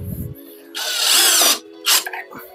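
A power drill driving screws into wood with an Enjoywood pocket-hole jig, a loud close whirring burst of nearly a second, a brief pause, then a shorter second burst, with a short bit of talk at the start.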